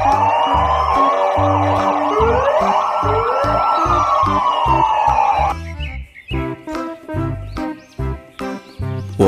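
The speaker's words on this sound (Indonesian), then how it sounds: "Wow, lihat ada mobil polisi." A toy police car plays a loud wailing electronic siren, close and steady for about five seconds, then breaks into short choppy bursts of sound over a pulsing music beat.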